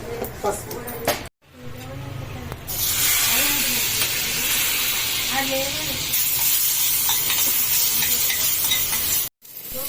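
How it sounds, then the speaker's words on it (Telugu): Loud, steady sizzle of cumin and curry leaves tempering in hot oil for mango chutney, with stirring scrapes and a voice talking over it near the start. "మామిడికాయ చట్నీలోకి అయితే ఆయిల్ వేసేసుకొని పోపు పెట్టేసుకున్నాము"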